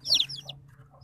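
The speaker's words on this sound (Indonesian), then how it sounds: "kayak suara anak ayam" Baby chicks peep inside a cardboard box, a short burst of high, bright chirps right at the start, then a softer call trailing off over a low steady hum.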